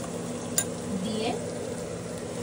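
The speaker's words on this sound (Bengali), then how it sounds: "এবার ভালো করে নাড়ছি।" Spices frying in a pan for a string beans masala curry, coriander, Kashmiri red chilli and turmeric stirred in a steady close hiss, with a brief utensil clink against the pan.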